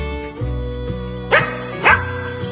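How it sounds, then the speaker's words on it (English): A dog barks twice in quick succession during an indoor obedience session with several dogs, the barks loud and close over a low background hum. "Okay, don't bark at me."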